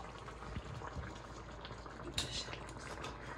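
Lasagna sauce bubbles and simmers in a pot, a soft steady burbling with faint clinks and one brief louder stir or splash, heard close but quiet.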